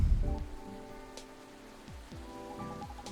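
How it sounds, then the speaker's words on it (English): Soft steady rain falls in the cozy café of the game Coffee Talk 2, a gentle wash of drops running under a lilting music track with a few low rumbles early on. "This rainy season sure is something."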